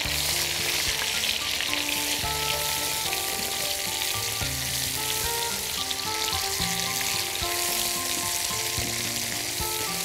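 Mushrooms and garlic fry in a pan, giving a steady, even sizzle that runs unbroken for the whole stretch with no voices over it.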